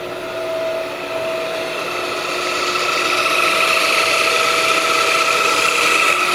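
A Rollin 14 x 18 saw runs without a blade, its motor a steady close whine and hum that swells slightly in level over a few seconds, alone without voices.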